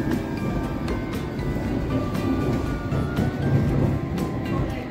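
Interior of a nearly empty train as passengers get off, with a steady low rumble of the carriage and faint clanks and squeals throughout, no voices heard.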